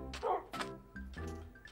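Dogs barking in the Minecraft video game, a few short yapping barks in separate bursts over a low background, fairly close and moderately loud.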